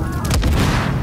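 A grenade explodes in The Division video game, a single loud, close blast with a rumbling low-end tail that fills the whole second.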